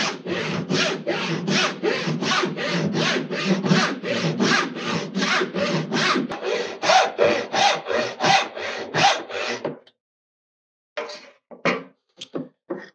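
Hand saw cutting pine clamped in a vise, steady rhythmic full strokes rasping close by for about ten seconds, then a pause and a few slower, shorter strokes.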